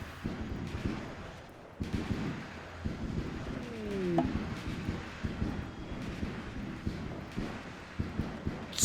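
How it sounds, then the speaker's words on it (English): Gunfire from a firefight in the colony game Rimworld, repeated dull thudding shots at irregular intervals over a rumbling, windy background, with a brief whistling tone in the middle. "Stop shooting!"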